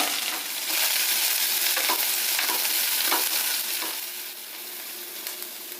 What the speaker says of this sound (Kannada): ಸ್ವಲ್ಪ ಉಪ್ಪು ಹಾಕ್ತೀನಿ ಚೆನ್ನಾಗಿ ಟ್ರಾನ್ಸ್ಪರೆಂಟಾಗಿ ಫ್ರೈ ಆಗುತ್ತೆ ಈರುಳ್ಳಿ